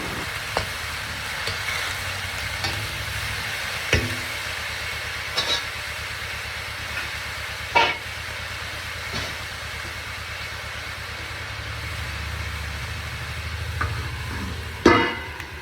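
A spoon stirs food frying in a pan just after salt goes in, giving scattered scraping knocks over a steady low sizzle, with no talking.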